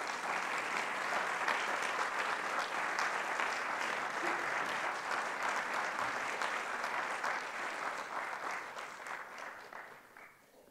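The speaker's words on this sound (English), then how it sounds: "would you join me in expressing that gratitude with your applause?" An awards ceremony audience applauds an honoree in a full, even wash of clapping that tapers off toward the end.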